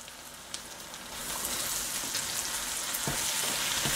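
Carrots and bell peppers sizzling in a hot pan, starting as a quiet crackle and swelling into a louder, steady frying hiss with scattered pops.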